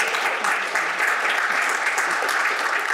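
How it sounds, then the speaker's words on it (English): Dense, steady applause from a panel discussion audience fills the whole stretch, many hands clapping at once without a break. "join me in giving another round of applause to the four great panelists here for that"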